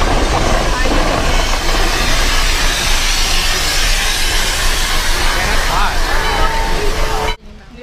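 Loud, steady rumbling of the Yosemite Mountain Sugar Pine Railroad train with crowd chatter mixed in, continuing for several seconds before cutting off abruptly.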